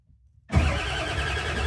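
A 1989 Ford F-350 with a 7.3L IDI diesel cranks and catches abruptly after a moment of near silence, then runs loud and close with a rough, steady clatter.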